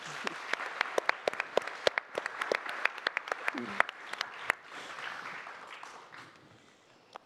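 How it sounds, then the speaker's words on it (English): An audience at an energy-efficiency financing panel applauds its speakers in a fairly quiet, moderate round of clapping that fades out gradually over several seconds. "Please join me in a round of applause for our speakers today."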